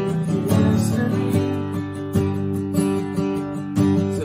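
An acoustic guitar strummed in a steady rhythmic pattern, full ringing chords with regular strokes, close and loud with no talking.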